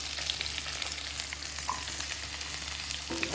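Sliced onions sizzle in hot oil with mustard seeds, urad dal and dried red chillies, with a few stirring scrapes. The frying hiss is steady and fairly quiet, close up, and nobody speaks.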